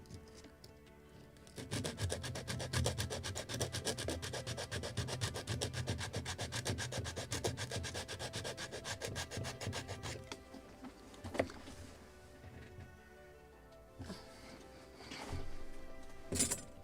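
Close, steady back-and-forth sanding on a primed wooden Midwest Muscongus Bay lobster smack model boat kit, continuous for about ten seconds, then pausing into quieter scattered scrapes and taps before a short final burst.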